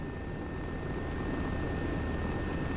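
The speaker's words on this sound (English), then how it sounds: "Can you hear the helicopter?" A helicopter in the video game Arma 3 on the Altis map gives off a constant, even rotor and engine roar, steady and unbroken, with no speech.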